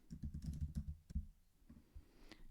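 Quick bursts of typing on a computer keyboard while renaming a button in Notion, close clicky keystrokes thinning out into a few scattered taps, no voices.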